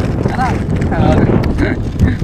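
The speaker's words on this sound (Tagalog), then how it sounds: "Lakas po ng hangin ngayon dito sa pinagtatrabaho nating company kasi malapit po tayo sa dagat" Strong wind blowing at a company work site close to the sea, a steady roaring rush buffeting the microphone throughout, with a voice speaking briefly over it.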